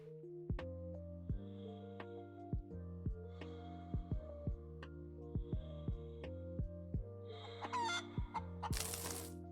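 A chicken in the space-survival game Breathedge clucks in short, repeated bursts over a steady low electronic hum, with a few scattered sharper squawks and a louder burst of noise near the end.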